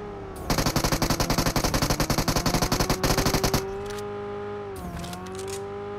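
Rapid automatic gunfire in a PUBG Mobile squad match, a dense burst of evenly spaced shots lasting about three seconds over a steady vehicle engine drone, which carries on alone once the firing stops.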